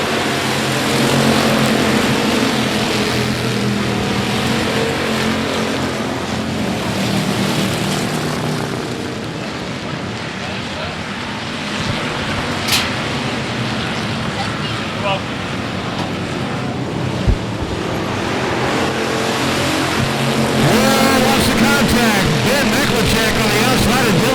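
Race cars roar on a restart at I-37 Speedway, a loud, dense engine drone that swells and holds across the whole stretch, with a commentator talking over the noise.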